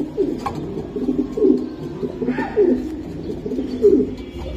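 Racing pigeons coo repeatedly close by, low rolling throaty calls rising and falling in a loose rhythm over a few seconds, with no talking.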